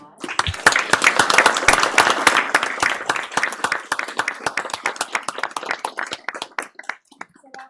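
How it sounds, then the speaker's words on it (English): Audience applause for students at a Prosper ISD school board meeting, dense clapping from many hands at first that thins into scattered, separate claps before fading out. "Please give them a round of applause."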